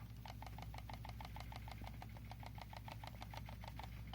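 A computer gaming mouse gives off a rapid, steady rattle of small ticks, roughly eight per second, repeating evenly under a constant low electrical hum, close and fairly quiet.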